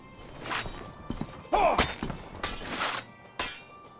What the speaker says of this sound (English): There are new sounds of hitting objects, the terrain, and even when equipment hits the ground.